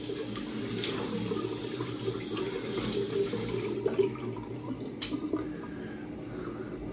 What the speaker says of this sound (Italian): Sciacquo il viso.